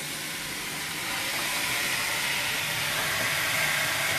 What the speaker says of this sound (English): so, and here's a sizzle.